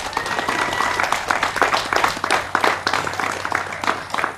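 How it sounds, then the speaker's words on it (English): Audience at an outdoor Utah barbecue competition applauds steadily for several seconds, a dense wash of clapping with some voices mixed in. "I'd like to have a nice round of applause to Greg and Lyle."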